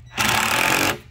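A power drill drives into a pressure-treated wood board in a backyard build, one steady loud burst of about three-quarters of a second that starts and stops abruptly, with no talk over it.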